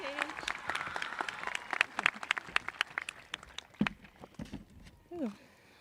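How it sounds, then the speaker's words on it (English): Audience applause at a high school graduation ceremony, dense clapping that thins into scattered claps, then a voice begins speaking near the end. "please join me in a round of applause"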